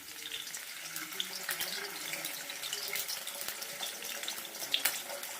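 Water pours and splashes steadily at a low level, close by, with faint clinks and occasional quiet voices in the background.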